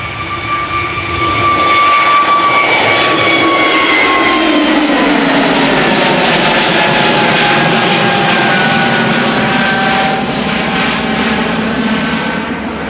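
Jet airliner roars close by on departure from Amsterdam Schiphol Airport, a loud sustained engine rush with sweeping tonal whine that rises, swells and slowly shifts in pitch as it climbs away.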